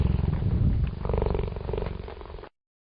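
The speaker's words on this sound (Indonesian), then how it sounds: "Cheetah." A cheetah purrs in a steady, rumbling rhythm for about two and a half seconds, loud and close, then stops abruptly into silence.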